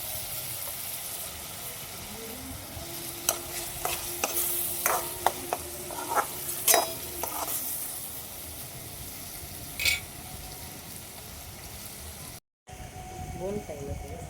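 Tomatoes, green chilies and ginger-garlic paste cook in a pan during a nighttime rooftop camp, a quiet, steady sizzle broken by scattered clinks and scrapes of stirring.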